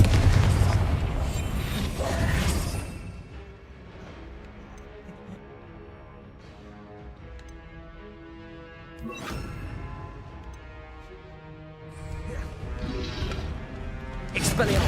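Confringo blasting spells exploding in Hogwarts Legacy, heavy booming bursts at the start, around the middle and toward the end, separated by quieter stretches with tonal magic shimmer; a voice talks between the blasts.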